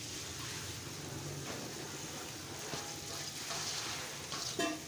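Cauliflower and peas dropped into a hot pan, giving a steady, fairly quiet sizzle and frying hiss throughout with small bubbling crackles.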